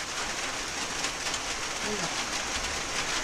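Steady hiss of rain falling on a surface, constant and fairly loud throughout, with no other clear sounds.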